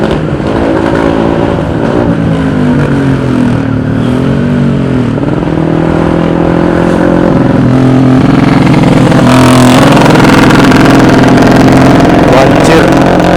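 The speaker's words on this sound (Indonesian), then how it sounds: "berisik banget suara motornya cuk." A loud motorcycle engine rides a forest road on Mount Slamet, droning steadily up close and rising and falling in pitch as the rider shifts speed. A voice is heard talking over the engine.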